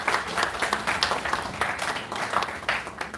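Steady applause from a crowd at a school anniversary ceremony, many hands clapping at once, moderately loud and sustained throughout.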